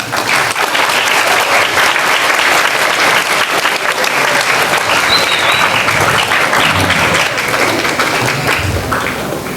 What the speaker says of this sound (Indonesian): jangan terlalu lama, tepuk tangannya ini saya tambah gember deh